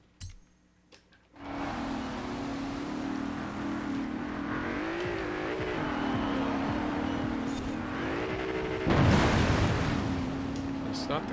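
Off-road car driven in Forza Horizon 4, a steady engine drone holding one pitch and rising in a few shifts as the vehicle pushes over rough ground, with a brief louder surge near the end.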